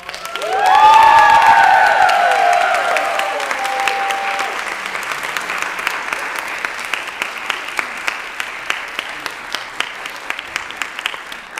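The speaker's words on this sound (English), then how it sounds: "One more round of applause." A crowd applauds loudly with some cheering at first at a singing masterclass, then the clapping settles into steady, thinner applause that carries on to the end.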